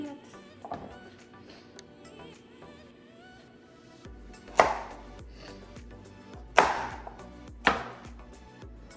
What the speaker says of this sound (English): we need to cut 2 large carrots into chunks